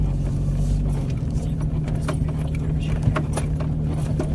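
Jeep rumbling over a rough trail with tree roots, a steady low engine drone under scattered rattles, clinks and knocks from the bouncing vehicle.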